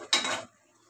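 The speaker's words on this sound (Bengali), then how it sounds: "নাড়াচাড়া করে দেওয়া হলো, লাউয়ের সাথে টাকি মাছ দিয়ে দেওয়া হলো" A single short scrape of a utensil in a cooking pot of bottle gourd and taki fish, close and brief, followed by near silence.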